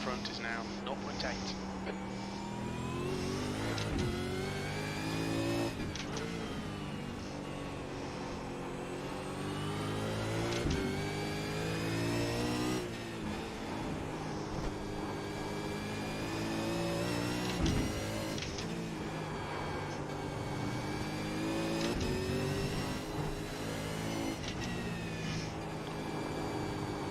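A V8 Supercar racing engine at Oran Park in iRacing, revving and shifting through gears with rising and falling pitch sweeps, continuous and prominent, while someone talks over it throughout.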